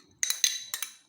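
Corn kernels poured into a bowl while making a bird's-tongue pasta and vegetable salad: three quick clinking, rattling bursts against the dish, close and crisp, with near silence between them.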